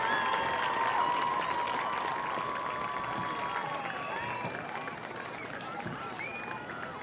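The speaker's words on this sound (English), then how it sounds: "Big round of applause once more for the Oregon High School dance team" Crowd applause and scattered cheers for a high school dance team fill a large space at a homecoming football game, steady and moderately loud, with whistles and voices mixed into the clapping.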